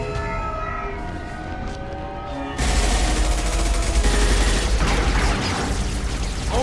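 Loud, continuous gunfire from the Mass Effect video game, quiet at first with a faint tonal score, then erupting into a dense, sustained volley of shots and rattling mechanisms that fills the rest of the moment.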